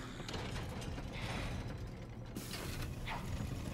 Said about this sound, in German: Das ist doch mal eine Tür.